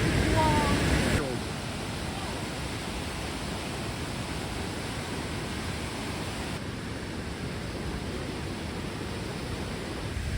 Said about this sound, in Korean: 왼쪽에 폭포 있습니다.